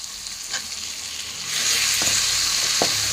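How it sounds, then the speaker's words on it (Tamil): Chopped tomatoes frying in oil in a pan, a steady close sizzle that swells louder halfway through, with a couple of brief stirring clicks and no voices. "3 தக்காளி நறுக்கி இதோட போட்டு நல்லா வணக்கி விடணுங்க"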